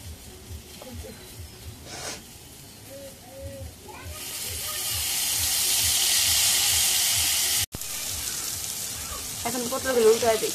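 Pointed gourd (potol) frying in a pan, a hissing sizzle that swells and holds loudly for several seconds, with someone speaking before and after it.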